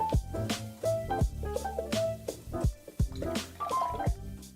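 Lemon juice being poured while a Tom Collins is mixed, heard as a short run of close, wet drips and splashes with small liquid plinks, alone and without talk.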